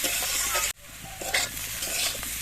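Kohlrabi stir-fried with chilli paste in a pan sizzles loudly and steadily, with scraping stirs and a brief break in the frying.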